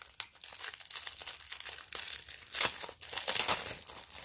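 Small plastic tray of glue for diamond painting handled up close, with a quiet, steady crinkling and crackling that rises and dips in short bursts and has no talking over it.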